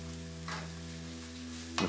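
Chicken balti curry stirred in a pan, a soft steady sizzle with a couple of brief scraping stirs, quiet and close with no talking.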